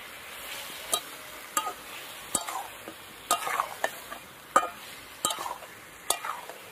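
Chicken giblets stir-fry with ground dried chilli, turmeric, salt, coriander powder and spice water, giving a low sizzle broken by regular sharp scrapes and clacks of stirring, close and with no voices.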